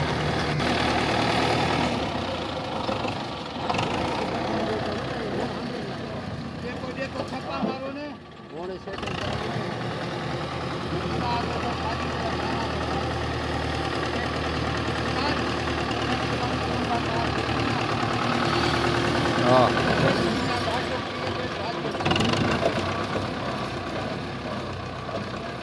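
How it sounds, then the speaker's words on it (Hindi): A Belarus 510 tractor engine runs steadily with a continuous rumbling drone that dips briefly once, while someone talks over it for most of the time. "ये देखें अभी चल रही है गाड़ी का साउंड चेक करें"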